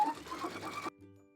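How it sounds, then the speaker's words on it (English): A sewing machine stitches fabric for a bow, a brief close run of rapid mechanical whirring that stops abruptly and leaves a faint residual hum. "when we start to sew again, about 2 inches over, we're gonna start from the edge of the fabric, sewing in a 1/4 of an inch"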